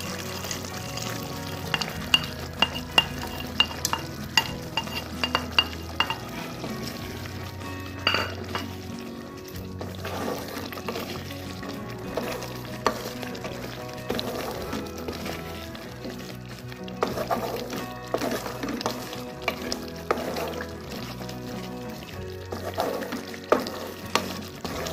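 Sliced coconut pieces and garlic fry in a pan for Onam-style inchi curry, giving a continuous soft sizzle broken by clinks and scrapes of a spoon against the pan as it is stirred.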